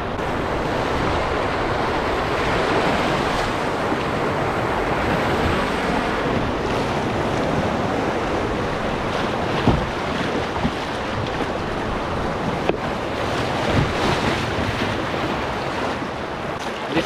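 A canoe on a rocky Scottish river with rapids, under a constant roar of rushing water and wind buffeting the microphone, with a few knocks and splashes, close and steady.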